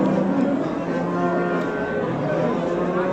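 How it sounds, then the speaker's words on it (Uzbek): A barren cow lows at a busy livestock bazaar in Spitamen. Its drawn-out moos blend into a dense, continuous din of other cattle and the market crowd. "Qisir sigir."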